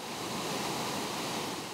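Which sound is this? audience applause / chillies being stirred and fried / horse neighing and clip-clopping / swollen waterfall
swollen waterfall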